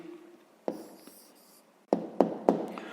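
Pen or chalk writing out an answer to a fifth-grade maths exercise, a few short scratchy strokes and taps in bursts, close and otherwise quiet.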